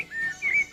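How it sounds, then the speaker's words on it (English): A small songbird gives a quick run of bright, clear chirps and short whistled notes, close and moderately loud, lasting under a second. "there lived a bird who loved to sing"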